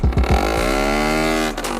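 A stock 50cc moped engine sputters through a few quick blips, then holds a loud, sustained full-throttle scream before easing off near the end.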